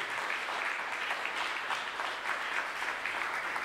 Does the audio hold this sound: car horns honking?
no